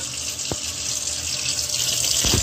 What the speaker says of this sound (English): let's turn on this hot water